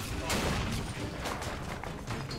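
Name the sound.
gunfire in the video game Bioshock Infinite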